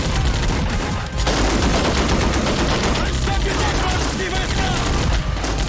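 Heavy DShK machine gun fire mixed with rifle shots rattles continuously in a battle simulation game, a dense loud fusillade with no break across the whole stretch, a commentator's voice faintly under it.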